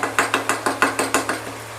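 A spatula scrapes and taps rhythmically against a pan while fish bhaji is gently stirred, about nine evenly spaced soft strokes over a low steady hum, close and moderately loud, with no talking.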